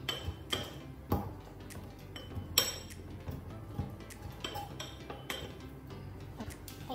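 A spoon crushes and juices fruit pieces for a mocktail in a glass, giving a string of clinks and dull taps against the glass at an irregular pace, close by and fairly quiet.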